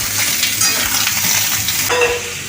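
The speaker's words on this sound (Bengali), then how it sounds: "আপনার দিদি পরোটা ভাজছে" Paratha sizzling and frying in a hot pan, a loud, steady hiss close by, without any talk.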